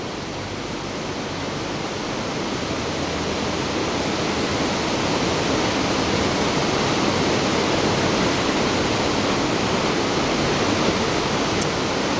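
A steady, broad rush of falling water roars without pause, dense and constant, at Hooker Falls in DuPont State Forest, North Carolina.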